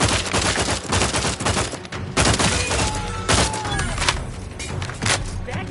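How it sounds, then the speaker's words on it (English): Sustained gunfire in The Outer Worlds 2, loud and continuous bursts with heavy booms and rapid shots overlapping for several seconds. "Lay down fire."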